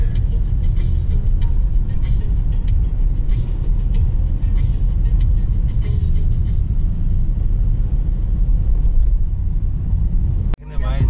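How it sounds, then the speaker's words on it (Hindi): Heavy road traffic on a busy Delhi street makes a constant, loud rumble of cars and engines nearby. A low hum continues underneath and the noise cuts off abruptly near the end. "देख सकते हैं आप कितना ट्रैफिक है यहाँ।"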